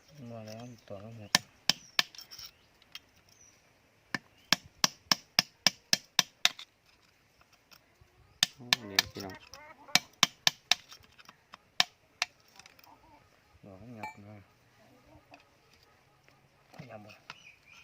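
Sharp metallic hammer blows ring out in quick bursts of several strikes, close and loud, separated by pauses and brief talk, as a front wheel seal is hammered out of a Kubota L4708SP tractor.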